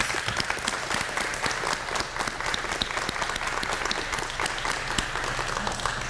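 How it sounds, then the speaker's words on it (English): Dense, even applause for food bank staff and volunteers carries on at a steady level throughout, with crisp individual claps standing out in the crowd. "Please give a round of applause to the Connecticut Food Bank staff and volunteers"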